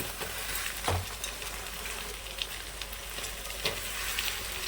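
Bean pieces, squeezed of water, land in a hot tempering of oil and spices, filling the air with a steady, close sizzle and a few soft pops.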